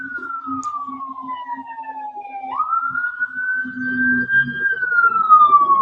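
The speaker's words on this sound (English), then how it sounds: "I don't know if you heard that siren, but it was the fire truck." A fire truck siren wails past, one long steady rising-and-falling tone that dips, then jumps back up louder as it nears, with faint background rumble and no talk.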